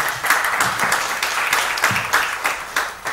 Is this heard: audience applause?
yes